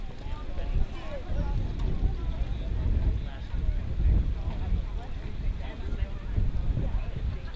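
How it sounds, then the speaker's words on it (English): Gusty wind sweeps across an outdoor field during a girls' high school soccer game, buffeting the microphone in repeated low rumbling bursts over a faint, noisy background. "Once again, that wind has really kicked up"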